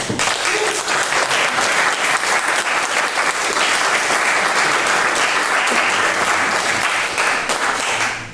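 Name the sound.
applause for the staff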